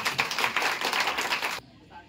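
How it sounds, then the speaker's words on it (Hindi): An audience at a village agriculture camp with local officials attending claps loudly in a dense, steady round that stops abruptly after about a second and a half. "एक बार जोरदार ताली बजा दीजिए"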